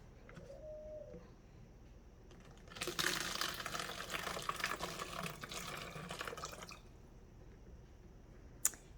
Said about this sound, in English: I just grabbed the funnel and I am putting half a cup of water in here.